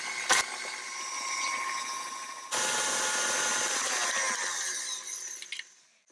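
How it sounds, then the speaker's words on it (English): Chocolate cupcake batter is mixed with a steady mechanical whirring that grows louder partway through, holds for several seconds, then winds down and stops, with no voices. "And just mix that until it forms a batter."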